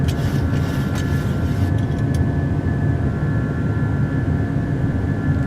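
PMDG 737-800 jet engines in a flight simulator climb, a loud, steady broadband roar with a constant whining tone running throughout, no voices over it.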